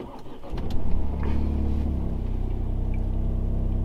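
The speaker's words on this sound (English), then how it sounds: "So I'll start the car now." A Ford Fiesta MK8 ST turns over and fires up from cold with a quick cranking rumble, then settles into a steady, close, raised idle.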